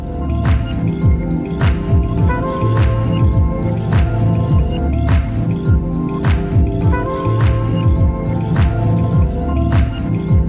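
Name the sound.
pasta being mixed with pesto sauce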